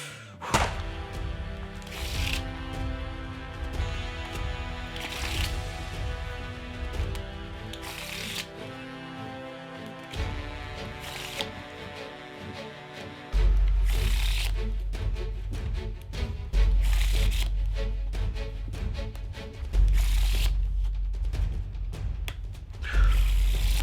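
Rapid riffle shuffling of a deck of playing cards in a timed speed attempt, with dense repeated bursts of card flutter and slaps running continuously close to the listener, alongside background music.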